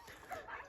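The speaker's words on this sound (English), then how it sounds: "I can hear Rudy barking" A dog gives a few faint, distant yips or barks, brief and soft in the background.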